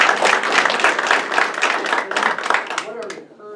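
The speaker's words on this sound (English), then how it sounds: "Oh, so we're going to give them a round of applause." An audience gives a round of applause at a public forum on state term limits, dense close clapping from many people that runs strongly for about three seconds, then tapers off as a voice begins speaking.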